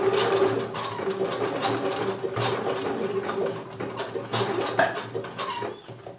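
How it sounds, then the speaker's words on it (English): A sewing machine stitches diagonally across bikini strap fabric, giving off a strange noise: close, continuous ratcheting clatter with rapid rhythmic knocks that eases off near the end. "my machine was doing a very strange noise"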